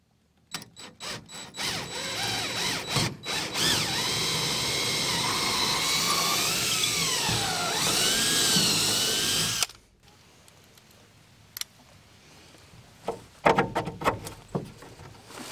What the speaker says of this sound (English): And now, I'm going to drill the holes.